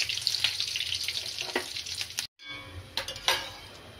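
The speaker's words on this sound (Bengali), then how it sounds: "এরকম করে আমি ফুলিয়ে ফুলিয়ে সবগুলো ডালপুরি ভেজে নেব।" Bengali dal puri, flatbread stuffed with chana dal, deep-fries in oil with a dense, bubbling sizzle up close, broken by a brief silent gap before the frying resumes with a few louder spurts.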